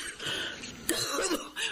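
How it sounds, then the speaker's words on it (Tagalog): An older woman coughing in a Filipino drama, a few rough, throaty coughs and throat clearing, close and fairly quiet with no talk over them. "Iba na yung tunog ng ubo niyo,"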